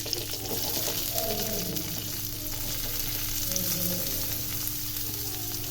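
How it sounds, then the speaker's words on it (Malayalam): Onions frying in hot oil, cooked for a chicken-free chicken roll: a steady, even sizzle that runs the whole time, fairly close and with no talk. "അപ്പോൾ നമ്മുടെ എണ്ണ ചൂടായതിനു ശേഷം നമുക്ക് അതിലേക്ക് നമ്മുടെ സബോള ഇട്ട് കൊടുക്കാം."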